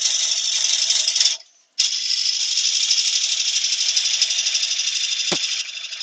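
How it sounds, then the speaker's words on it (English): A wood lathe through-turns a wet live-edge bowl in a workshop, giving a loud, steady high-pitched rattling whir with a brief cut-out near the start, then continuing evenly to the end. "through turning like this, on wet stuff, the shavings are going right across the workshop"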